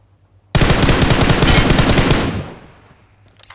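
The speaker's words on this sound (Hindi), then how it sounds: "ये ट्रिपल स्टोरी से अपने ऊपर बंदा फायर लेता है।" Enemy automatic gunfire in the mobile battle royale game PUBG Mobile, a sudden loud burst of rapid shots lasting about two seconds before trailing off into echo.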